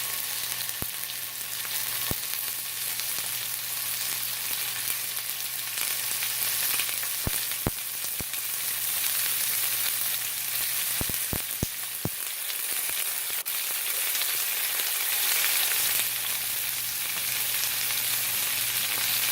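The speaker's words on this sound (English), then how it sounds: "now my pan is hot. I'll add my pork medallions" Pork medallions fry in a hot pan, giving a steady loud sizzle and crackle throughout, with a few sharp pops scattered through the middle.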